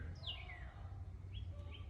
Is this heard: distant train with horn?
no